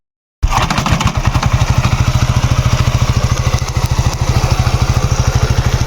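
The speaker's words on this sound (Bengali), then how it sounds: "তো এরকমভাবে আপনাদের বাইকটা স্টার্ট দিতে হবে" A motorcycle engine bursts to life after a moment of silence, then settles into a loud, rapid, even idle thumping close by.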